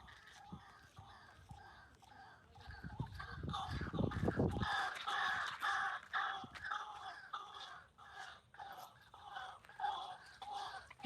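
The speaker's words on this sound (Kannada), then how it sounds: "ಏನೋ ಪಕ್ಷಿ ಸೌಂಡ್ ಬರ್ತಾ ಇದೆ, ಏನಂತ ಗೊತ್ತಿಲ್ಲ" An unidentified bird calls again and again outdoors along a walking path. The calls are moderately loud and close, with faint rustling and soft voices around them.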